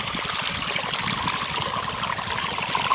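Water runs from irrigation taps set along pipes in a chili field, a steady close trickle and splash with no speech over it.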